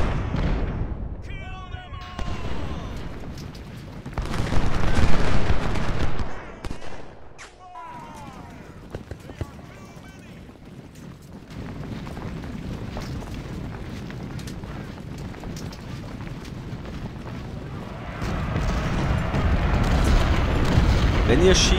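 Cannon and artillery fire in the Civil War strategy game Ultimate General: Civil War, heavy booms and bursts of gunfire rolling through a battle mix, loudest around five seconds and again near the end, with someone talking over parts.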